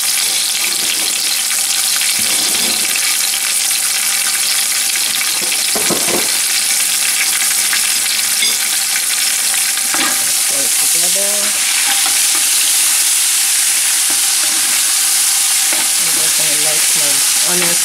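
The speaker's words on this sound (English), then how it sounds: "So I like to fry my condiments alongside the fish" Condiments such as onions frying alongside fish in a pan for Nigerian stew, a loud, dense sizzle that runs without a break, with scraping stirs and spattering crackles on top.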